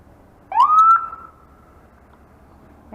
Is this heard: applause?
no